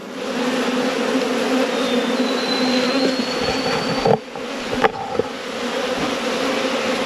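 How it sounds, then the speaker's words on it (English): A steady, close hum of honey bees working a hive frame in a mite-resistance field trial, broken by a few brief handling knocks near the end. "look at the bees working it here."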